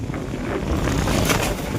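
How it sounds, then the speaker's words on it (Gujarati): Strong gusting wind in a summer storm with light rain in Gujarat, roaring and buffeting close against the microphone, a continuous loud rush without any voices. "એટલો ફૂલ પવન છે અત્યારે"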